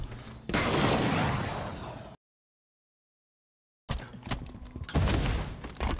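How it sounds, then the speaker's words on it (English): Dense bursts of loud Halo 5 gunfire, cut by a sudden stretch of total silence before more rapid shots and booms resume. "I hear gunshots."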